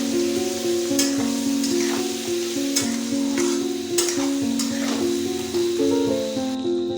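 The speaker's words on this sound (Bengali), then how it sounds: "এবার এই তেলে দিয়ে দেবো সেদ্ধ করে রাখা মাটন এবার এর মধ্যে দিয়ে দেবো লবণ হলুদ লঙ্কার গুঁড়ো সব কিছুকে ভালোভাবে মিশিয়ে নেবো" Boiled mutton frying in hot oil with salt, turmeric and chilli powder, a continuous loud sizzle broken by regular scraping stirs of a spoon, with no voices.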